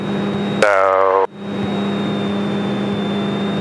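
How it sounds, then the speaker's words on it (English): A light training airplane's engine runs at a steady run-up drone while the magnetos are checked, and a person speaks briefly over the constant hum. "I'm checking the magnetos"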